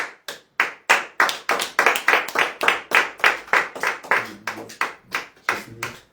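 A church congregation claps loudly in a steady rhythmic beat, many hands together close by, over about six seconds with no voices rising above it.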